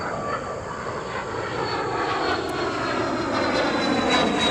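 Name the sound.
airplane flying past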